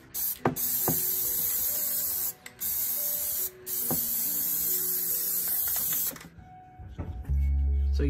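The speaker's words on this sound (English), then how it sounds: "And now I'm going to spray it with Plasti Dip." Several bursts of hissing Plasti Dip aerosol spray, each lasting a second or two, separated by brief pauses and small clicks, close and fairly loud.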